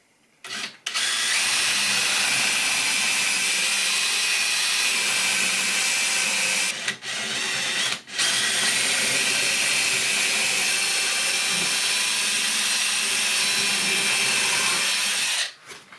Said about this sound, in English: I'm going to drill some larger holes in here